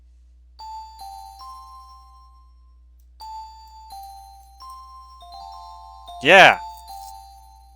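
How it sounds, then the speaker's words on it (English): Bells chime in the bell-ringing minigame of Disney's A Christmas Carol video game, a sequence of clear tones ringing out one after another, followed by a loud bright burst as a voice cheers. "Listen to the sequence repeat, ring the bells"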